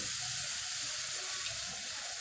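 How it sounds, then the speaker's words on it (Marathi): Water sprinkled by hand over roasted besan (gram flour) in a pan gives a steady broadband hiss and patter, continuous and fairly loud throughout, with no talking. "मी आता ह्याच्यावरती ना पाण्याचा हपका मारते आहे"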